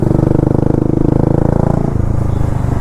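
A Bajaj Dominar 250 motorcycle runs with no exhaust fitted, its engine loud, close and raw, pulsing in a fast, steady throb throughout.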